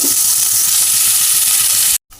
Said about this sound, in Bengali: এবার আমি এর মধ্যে আলুগুলোকে দিয়ে দিলাম।